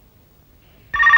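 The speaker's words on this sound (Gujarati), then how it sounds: "ઓહો ટેલિફોન આવ્યો" A telephone bell suddenly starts ringing after a near-silent pause, loud, close and continuous, cut off abruptly at the end.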